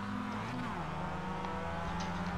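A Mazda race car engine in the iRacing sim drones and revs after a missed gear, the pitch dipping and then climbing steadily, loud and continuous with a faint voice underneath.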